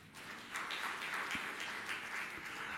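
A congregation applauding in a church, a sustained soft patter of many hands clapping together for a few seconds, somewhat distant and without voices.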